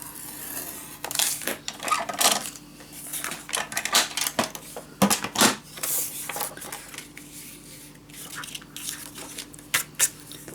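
Paper being cut and folded for a Christmas mini scrapbook album, a run of close, crisp scrapes, snips and creases in irregular bursts with short pauses between them.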